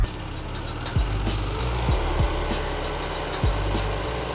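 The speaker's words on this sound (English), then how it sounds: "Push the throttle of the blower engine and the vessel is taken off." A steady engine drone runs throughout with low rumbling harmonics and a few brief louder surges, a luxury hovercraft's blower engine, with a 175 hp Subaru engine, idling up close.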